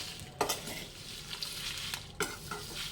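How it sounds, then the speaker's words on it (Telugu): Dried prawn shells stir-fried in a pan for a spicy powder, a dry crackling sizzle broken by a few quick scraping stir strokes, close and without speech. "రెండు బాగా వేగే వరకు ఉంచి కట్టేయాలి"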